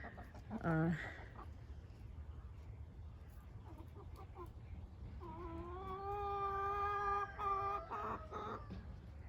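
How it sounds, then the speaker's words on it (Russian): A rooster crows loudly once, a long harmonic call near the end, with brief clucking earlier over steady low background noise. "здоровается мой петушок с вами"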